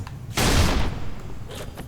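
Gunfire in a Halo game on a sandy level, a loud burst of sustained shots lasting about half a second, followed by a softer rattling tail and a few faint trailing reports.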